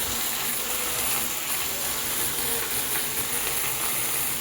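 Eggplant and tomato frying together in a pan for a catfish curry, a steady, soft sizzle and hiss running evenly throughout with no voices.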